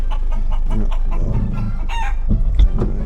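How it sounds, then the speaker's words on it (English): Chickens cluck busily nearby while a rooster crows, the fowl noises overlapping against a steady background rumble. "there's chickens over there"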